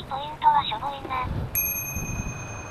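A bicycle bell gives a single bright ring that hangs on during a bicycle trip in Aomori, with people talking just before it.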